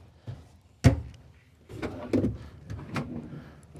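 Large wooden drawers on a bedroom wardrobe in a Renegade Verona 40VRB motorhome sliding open and shut, with a sharp thump followed by rumbling glides and softer knocks, close by with no talking.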